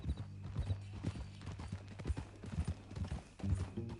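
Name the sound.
horse hooves clip-clopping, from a video game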